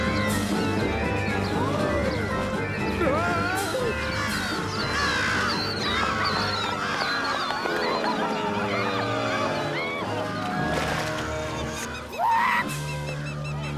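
Cartoon birds squawk and caw in a loud, chaotic flock during an attack scene, honking calls overlapping continuously with clattering effects and bits of voices.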